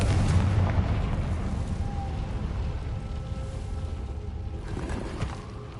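A Confringo blasting spell explodes in Hogwarts Legacy, a loud low boom at the start that decays into a long rumbling tail, with a second softer burst near the end.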